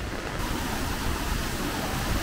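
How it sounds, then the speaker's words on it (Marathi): Strong flowing water of the Kelavali waterfall stream in Satara, a steady broadband rush that holds at an even level throughout, close by and with no talk over it. "पाण्याचा प्रवाह जास्त आहे"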